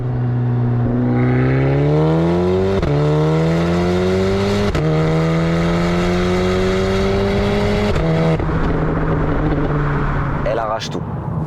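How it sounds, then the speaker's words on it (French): A Golf 8 R Stage 3 car accelerates hard through several gears, its engine note rising loudly with sharp drops at each shift over about eleven seconds, with a voice speaking over it. "Je m'en lasse pas, l'accélération,"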